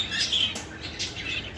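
Parrots in a pet shop in a market squawk and screech in bright, harsh bursts, several calls overlapping at moderate distance over a busy indoor background.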